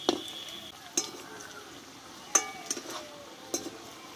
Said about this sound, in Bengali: উল্টিয়ে আমি ভালোভাবে এগুলো ভেজে নেব।